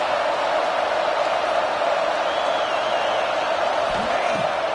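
Football stadium crowd at an Iowa State versus Fresno State game roaring steadily on a big third down, a dense, loud wash of cheering and whooping throughout.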